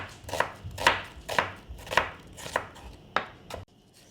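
Knife slicing an onion thinly lengthways on a chopping board, about seven crisp rhythmic cuts roughly half a second apart, close and distinct, ending abruptly.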